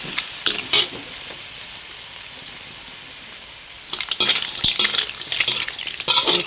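Seasoned home-cooked dish frying and being stirred in a pan: a steady close sizzle with bursts of utensil scraping and clinking near the start and again toward the end, no voices.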